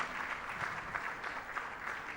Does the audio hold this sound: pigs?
no